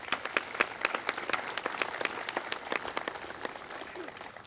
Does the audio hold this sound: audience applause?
yes